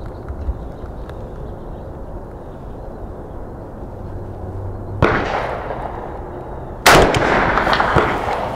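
Two sharp, loud rifle shots of 444 Superformance ammunition fired at a target outdoors, a few seconds apart, each with a brief ringing decay, after a quiet stretch with faint background noise.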